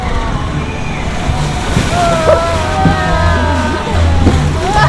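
A log flume boat on the Chiapas ride at Phantasialand, Germany, splashes and sloshes through churning water with a rushing wash, while people talk over it.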